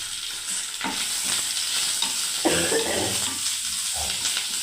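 Whole cumin, carom seeds and onion fry in hot oil with a steady, close sizzle, broken by a few louder bursts of stirring and spattering.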